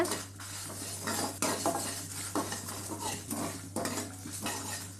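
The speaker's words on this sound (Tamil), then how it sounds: "இது எல்லாத்தையும் போட்டு நல்லா வறுத்து விடுங்க." Fenugreek seeds and dried red chillies dry-roasted in a pan for gongura kadaiyal, with repeated metal scraping and clinking of a spoon against the pan over a faint hum, no speech.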